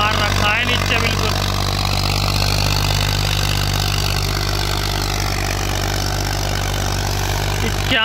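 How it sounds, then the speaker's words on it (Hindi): Old 1991 Massey 35 tractor engine pulling a cultivator through a field, a loud, steady low diesel drone with a constant throb that runs the whole time, close by. "काफी पुराना ट्रैक्टर है।"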